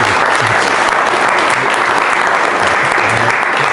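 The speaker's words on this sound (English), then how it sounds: "applause for thanks" A lecture audience claps in thanks, sustained and even applause from a hall full of listeners, loud and close with no talking on top.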